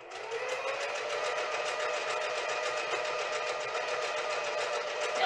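Sewing machine stitching and backstitching fabric, running at a steady fast rate with an even rattling hum that holds through the whole stretch without pause.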